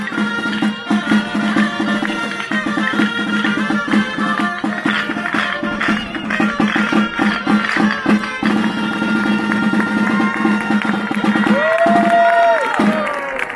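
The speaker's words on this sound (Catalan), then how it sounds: "Un fort aplaudiment, va, tornem a aplaudir." Crowd at an outdoor Sant Sebastià giants festival, applauding steadily with dense rapid clapping and cheering that holds at full loudness for the whole stretch, with voices mixed through it.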